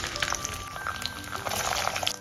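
Chicken drops into hot refined oil in a kadhai, giving a continuous close, bubbling sizzle with crackling pops throughout.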